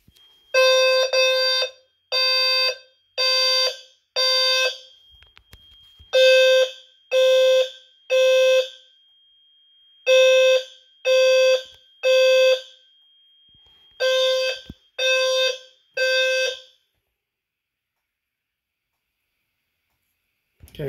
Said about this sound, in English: There you go, zone 3 alarm.